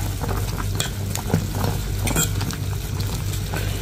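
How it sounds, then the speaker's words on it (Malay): Oxtail simmers in a pot of water for oxtail soup, giving a continuous close bubbling and hissing with a low hum underneath and faint scattered clinks. "So ni kita tengah rebuskan ekor."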